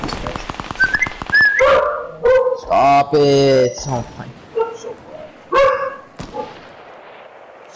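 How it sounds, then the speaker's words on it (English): A dog barks in bursts, several loud close yaps and woofs in irregular rhythm, mixed with a person speaking over it. "Stop barking"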